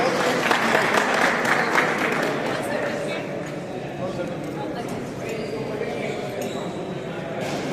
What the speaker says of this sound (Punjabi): ਤਾੜੀਆਂ ਮਾਰਦੇ ਹੋਏ